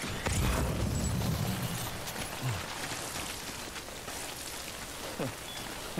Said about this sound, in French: Bah là, il pleut au travers.